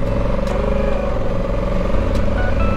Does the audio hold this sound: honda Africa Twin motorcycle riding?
yes